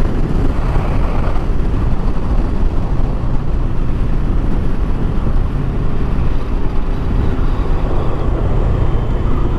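A 2025 Moto Morini Calibro 700 bagger motorcycle leans into a corner on the road, heard as a loud, unbroken roar of engine and rushing wind that stays even and close throughout, with no voices.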